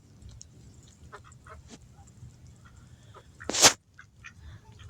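A bearded chicken among a small flock outdoors gives soft scattered clucks, then one loud, harsh squawk near the end stands out above the quiet background.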